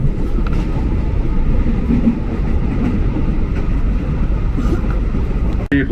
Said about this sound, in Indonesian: Papasan sama KRL Inka tuh.